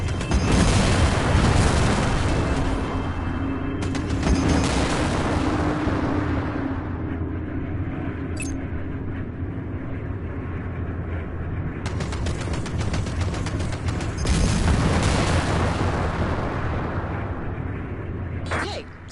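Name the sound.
plasma cannon fire in Strike Suit Zero video game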